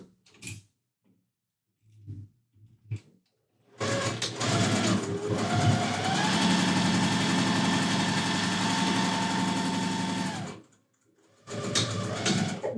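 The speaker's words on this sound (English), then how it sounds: "And the automatic thread cutter." A sewing machine with an automatic thread cutter, used for piecing quilt blocks, runs loud and steady for about seven seconds before stopping, with a few soft clicks and handling knocks before and after.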